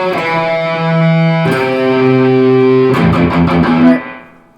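Sustained chords ring out from a distorted Marshall JCM 800 1 Watt electric guitar amp with the reverb turned up, three held chords changing about every 1.5 seconds, the last one trailing off into a reverb tail, loud and alone.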